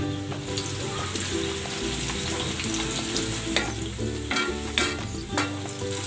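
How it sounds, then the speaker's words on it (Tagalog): Sliced sweet potato frying in hot cooking oil makes a loud, continuous crackling sizzle with occasional sharper pops and a low hum underneath, heard alone without talk. "Ipiprito ko muna itong kamote."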